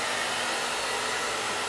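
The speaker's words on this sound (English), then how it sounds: "I'm going to take my really cool blow dryer." A handheld hair blow dryer runs steadily at close range, a continuous even whoosh with no pauses and no talking.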